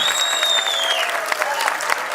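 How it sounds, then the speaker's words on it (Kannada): An audience at a Kannada movie title launch claps loudly for Raghu, a dense burst of applause throughout with a faint voice or tone gliding above it. "ಆ್ಯಂಡ್ ಜೋರ್ ಚಪ್ಪಾಳೆ ಬರಬೇಕು ನಮ್ಮ ರಘುಗೋಸ್ಕರ"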